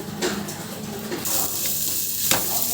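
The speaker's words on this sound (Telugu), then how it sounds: "ఇదండి ఇలా ఫ్రై అయిపోయింది చూడండి చక్కగా" Food fries in a pan with a continuous close sizzle while a utensil stirs, and scraping strokes come and go over the hiss.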